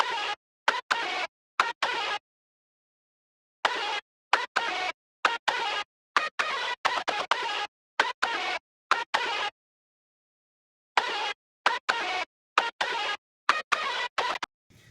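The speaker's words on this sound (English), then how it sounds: "right before the second hook is this perk loop, and it sounds like this" A dry, clicky percussion loop plays in repeating bursts of sharp hits separated by silent gaps, tight and rhythmic, with no voices.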